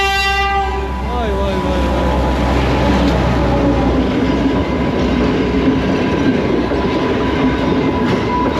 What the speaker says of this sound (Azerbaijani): video çək, qatar gəlir